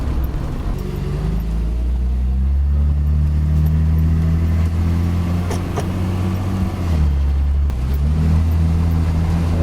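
Interior sound of a BMW E30 with a ZF 4HP22 EH automatic gearbox accelerating, a steady loud engine drone whose pitch climbs and then drops at gear changes, with road noise underneath.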